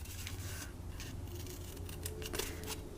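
Scissors snipping through scored paper card for a stitched nested labels box, a few crisp close cuts with light rubbing of paper in between, quiet and alone.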